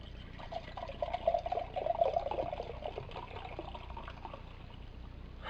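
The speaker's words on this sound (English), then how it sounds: "now that we got these open, we're going to pour them out" Bottled Schwelmer Bernstein beer pours into a glass, a burbling liquid stream that swells in the middle and then trails off into a softer fizzing trickle, heard close with no talking.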